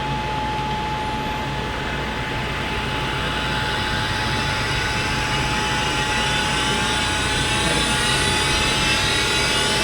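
A tool and cutter grinder spins up and settles into a loud, steady whine with a strong hum beneath it. The hum swells slightly as the spindle comes up to speed, and no one speaks.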